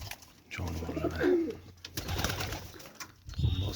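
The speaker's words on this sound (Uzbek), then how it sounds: "mana bola boqayotgan qushlar" Pigeons or doves coo while feeding their young, soft throaty calls repeating close by, with a person talking intermittently over them.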